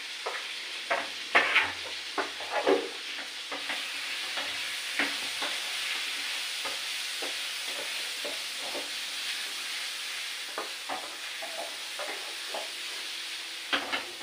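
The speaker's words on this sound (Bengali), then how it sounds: "নাড়াচাড়া করতে আলুটা সিদ্ধ হয়ে যাবে আর মশলাটা ভাজা হয়ে যাবে" Potatoes seasoned with salt and turmeric sizzle and fry in a pan, with continuous hissing and repeated close scraping stirs and spoon knocks throughout.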